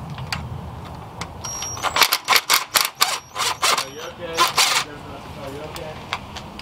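Ratchet clicks while loosening valve cover bolts on a Nissan VQ35DE 3.5L V6 engine, a close, loud run of rapid metallic ticks in uneven bursts, with someone speaking over it.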